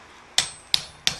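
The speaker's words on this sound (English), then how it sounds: "so we don't want to hammer those all the way down" Hot forged steel hammered into a swage while making a flower coat hook, three sharp ringing hammer blows spaced evenly about a third of a second apart, close and loud with short decays.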